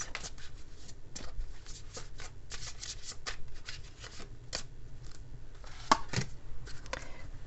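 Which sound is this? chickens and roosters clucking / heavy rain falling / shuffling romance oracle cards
shuffling romance oracle cards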